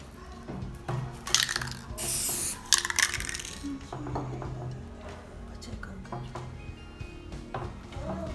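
Several short hissing bursts from a gold spray paint can, loudest and longest around the middle, mixed with light clicks and handling noises.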